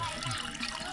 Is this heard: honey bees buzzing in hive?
no